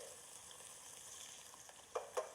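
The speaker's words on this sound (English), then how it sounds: "Now we're going to flip this again" Bone-in ribeye steak sizzling in a hot pan just after flipping, a steady loud fry with crackling and two sharper pops near the end, no voices.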